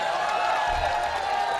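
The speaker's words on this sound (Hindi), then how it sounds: "एक बार मेरे इन दोस्तों के लिए भी तालियां बजा दीजिए" An audience at a mushaira in Gorakhpur claps in a sustained, even wash of applause from a large crowd.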